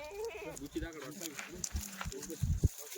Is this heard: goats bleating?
yes